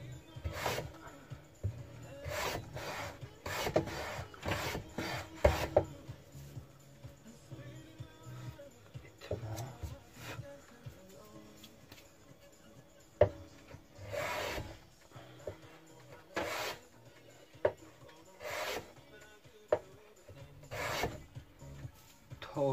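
Lie Nielsen No.60 1/2 block plane taking small shavings off a waxed piece of walnut, a run of short, close rasping strokes separated by brief pauses.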